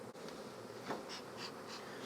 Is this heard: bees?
yes